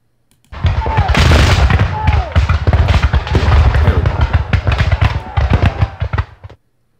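Cannon volleys from battalion guns in a war video game of the Battle of Saalfeld, a dense string of loud booming and crackling blasts over about six seconds, with brief low voices underneath.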